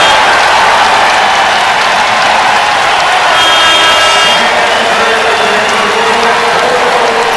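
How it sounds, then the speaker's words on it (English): Basketball crowd at a Buffalo Bulls versus Central Michigan men's game, on its feet cheering: a loud, continuous roar of voices and clapping filling the arena for several seconds, with no pause. "listen to the crowd on its feet cheering on their Bulls"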